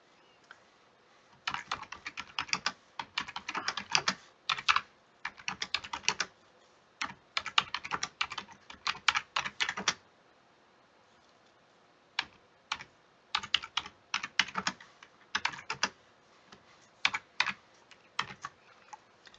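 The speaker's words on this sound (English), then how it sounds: "So I'm going to type in here" Typing on a computer keyboard in bursts of quick key clicks separated by short pauses, close and clear in a quiet room.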